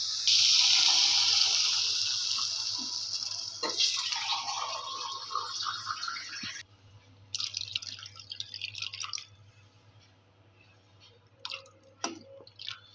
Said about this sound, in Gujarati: મેં આમાં ત્રણ ગ્લાસ જેટલું પાણી એડ કર્યું છે